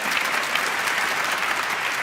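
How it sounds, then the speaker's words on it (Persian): An audience claps steadily in an indoor gathering, a dense, even burst of applause lasting a couple of seconds. "پریما رو هم تشویق کنی"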